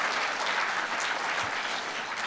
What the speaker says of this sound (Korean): 이쯤 되면 박수 또 치셔야죠